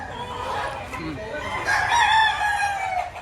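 A rooster crows loudly and close by at a busy rooster market in Batangas, one drawn-out call rising in the middle of the clip over a background of clucking fowl and faint crowd murmur.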